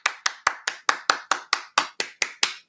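Steady rhythmic hand clapping in applause for NHS workers, about a dozen sharp, evenly spaced claps close up with no talking.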